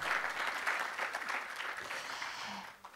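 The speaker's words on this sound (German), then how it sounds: "Ja, es darf ruhig Applaus geben," An audience at a panel event on work opportunities for people with disabilities applauds with a moderate, even patter of clapping that holds fairly steady and then thins out near the end.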